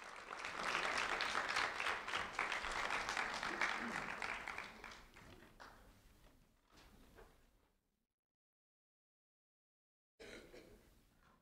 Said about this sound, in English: a round of applause for Bryce Flippin